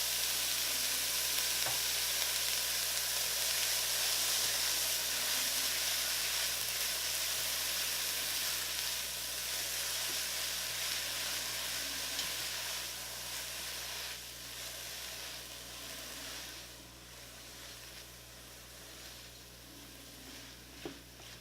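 Spinach sautés in a pan with a steady, close sizzle and frying hiss, occasional stirring scrapes breaking through as the sound gradually softens.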